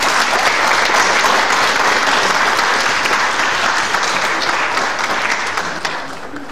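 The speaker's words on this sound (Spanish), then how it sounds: "Un aplauso, por favor." An audience at a keynote lecture by the dean of the IPN claps steadily and loudly, a dense wash of applause that fades slightly near the end.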